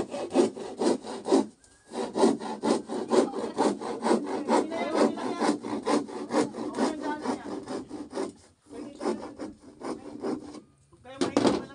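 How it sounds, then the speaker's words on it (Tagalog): Hand saw cutting through plywood while building a tubular-frame main door, with steady rapid back-and-forth rasping strokes, close and loud, pausing briefly a couple of times before resuming. "lagari yung plywood"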